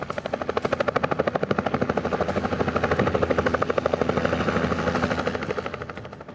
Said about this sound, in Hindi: आर्मी डे के दौरान आर्मी एविएशन के ध्रुव और रुद्र हेलीकॉप्टर का विशेष फ्लाई पास्ट भी हुआ।